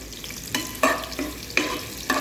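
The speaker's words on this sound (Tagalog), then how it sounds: "Pero yan ang the best na luto ng bawang na ganyan ng kulay." Garlic fries in a hot pan, a continuous close sizzle broken by several sharp scraping stir strokes at uneven intervals.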